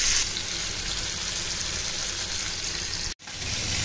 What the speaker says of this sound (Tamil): சிக்கன் நல்லா ரோஸ்ட் ஆகிடுச்சு.